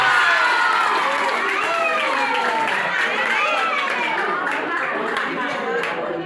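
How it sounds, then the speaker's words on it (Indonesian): A retreat audience in a hall bursts into applause and excited cheering, with children shouting amid the crowd noise; the clapping stays loud and steady, with voices mixed in throughout. "Silakan duduk. Tepuk tangan."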